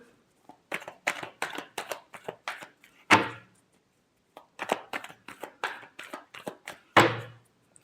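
Tarot cards shuffled by hand in two bursts of quick riffling slaps, each burst ending with a sharper snap as the deck is squared. The sound is close and clear, with no talk over it.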